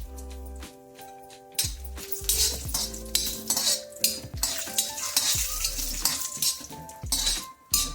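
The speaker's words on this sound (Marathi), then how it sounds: "काजू बदाम भाजून घेते थोडे" Cashews and almonds roast in a pan for paneer masala, with a spatula stirring and scraping against metal and cutlery-like clinks repeating over a soft background sizzle and a low steady hum, close and fairly loud, no talking.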